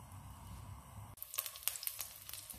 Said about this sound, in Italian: L'aglio sfrigola